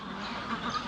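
Birds call in a dense, continuous chorus at Tomato Lake in Perth, Australia, with overlapping squawks and quacking-like cries filling the short stretch at moderate loudness.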